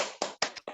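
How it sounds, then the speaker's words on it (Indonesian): Students in a classroom perform a rhythmic group clap, five sharp bursts of hand claps in an uneven pattern, close and fairly loud, with no talking. "Kita semangat lagi yuk supaya bisa mengerjakan tugasnya dengan semangat. Iya, tepuk semangat."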